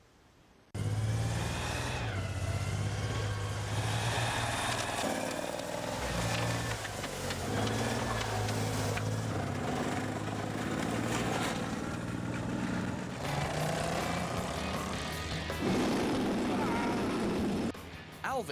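A 4.2-litre Jaguar engine powers an FV107 Scimitar light tank, running with a steady low rumble and shifting tone throughout, while a voice talks over it.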